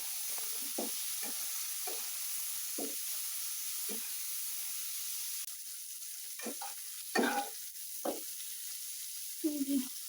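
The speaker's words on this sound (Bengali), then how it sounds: "আলু ফুলকপি ভাজা হয়ে গেছে" Potatoes and cauliflower fry in a pan with a soft, constant sizzle, broken by a few quiet stirring scrapes and clatters.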